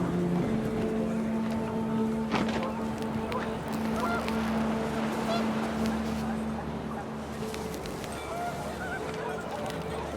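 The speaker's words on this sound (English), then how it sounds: "The wind picked up, and panicked geese appeared and quickly went." Panicked geese honk in the video game What Remains of Edith Finch, several sharp calls near the start amid wind and ambient game sound, with a low rumbling hum running underneath.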